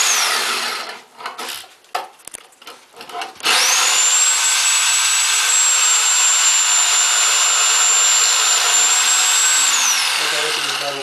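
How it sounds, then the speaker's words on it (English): Reciprocating saw cutting through carpeted stair treads during a hardwood retrofit, after some scattered knocks and handling noises, a loud, close, steady high whine runs for about seven seconds before winding down. "we've done the sawzalling"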